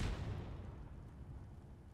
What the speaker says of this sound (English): Why as soon as I asked to join, it was an explosion